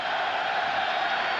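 Crowd noise at a Browns vs Ravens football game in a stadium, a steady broad roar of many voices swelling without pause, loud and continuous throughout.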